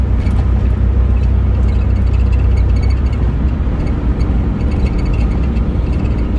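A 1988 Chevrolet S10 Blazer engine drones low and steady while driving, with constant road rumble and faint cabin rattles.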